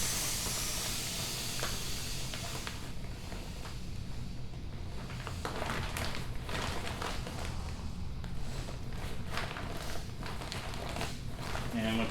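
Air hisses steadily out of the valve of a compression bag as it is rolled and squeezed flat while packing a ruck; a continuous close breathy rush with some handling rustle and talk over it.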